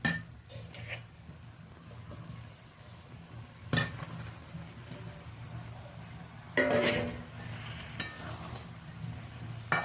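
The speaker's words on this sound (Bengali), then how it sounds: "ফুলকপি আলুগুলো বেশ ভালো করে নাড়াচাড়া করে নিচ্ছি।" Fried cauliflower and potato with raw peas are stirred in a spiced pan, giving a soft sizzle broken by a few louder scraping spoon strokes, with no talking.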